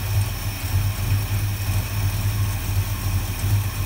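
A big block Dodge Dart, bored 40 over with stock crank and rods, new pistons and a Crane cam, idles close and steady with a low, even rumble and faint rhythmic pulsing throughout, no voices.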